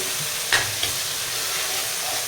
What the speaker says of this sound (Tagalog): Gisa-gisa ulit.